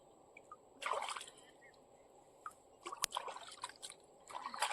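Pumpkin leaves are washed in water, with intermittent splashes, trickles and sloshing in short bursts over a quiet background.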